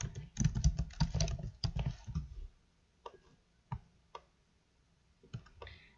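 A computer keyboard clatters in a quick burst of typing, then gives a few isolated key taps with pauses, close and quiet.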